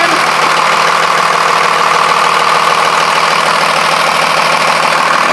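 A 1998 Blue Bird TC2000 bus engine idles, a loud, close and steady mechanical rumble with a constant even churn that holds without a break for several seconds, with no voices.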